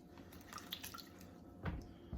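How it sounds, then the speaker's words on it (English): Fresh water rinse running over a leather baseball glove during cleaning, a soft wet splashing and dripping with a couple of louder splashes near the end, no talking. "just a kind of fresh water rinse"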